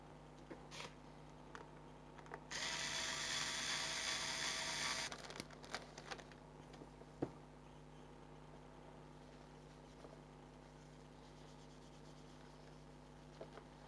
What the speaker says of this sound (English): screw it back together.